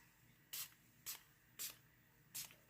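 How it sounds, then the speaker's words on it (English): Four short, sharp bursts of spray from a bottle of alcohol misted over freshly poured glitter resin, evenly spaced about half a second apart, close and crisp against a quiet background. "I am gonna spray some alcohol"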